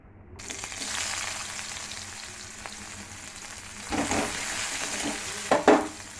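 Steady sizzling of bitter gourd and potato frying in a pan, with a few louder crackles and spatters toward the end.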